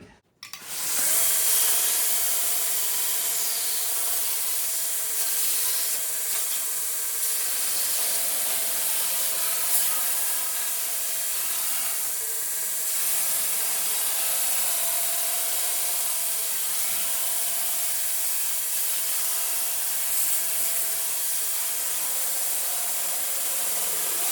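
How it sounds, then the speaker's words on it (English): A belt grinder sands and softens the edges of a wooden buck used for hammer-forming a custom firewall for a 1952 Ford F1, giving a loud, steady abrasive whir that runs continuously with no talk. "I'm gonna soften up these edges on the belt grinder real quick."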